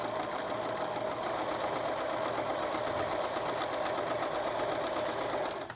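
A sewing machine runs in a continuous fast, even stitching rhythm close by as it sews quilt fabric, then stops abruptly at the end.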